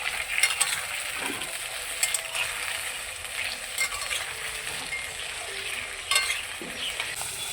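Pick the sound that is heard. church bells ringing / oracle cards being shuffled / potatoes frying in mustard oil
potatoes frying in mustard oil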